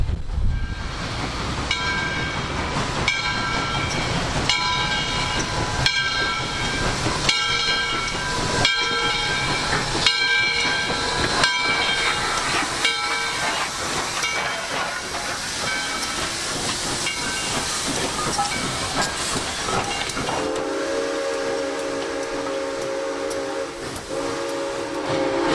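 A steam locomotive passing an outcrop of Chickamauga limestone in the Tennessee Valley, with a continuous loud roar of hissing steam and repeated chuffing pulses, and a whistle-like sustained tone in the final seconds.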